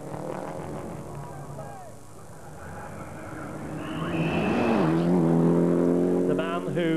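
A Group N Mitsubishi rally car on a live stage of the 1995 Network Q RAC Rally at Donington, its engine note climbing and growing louder toward the end, with commentary voices running over it.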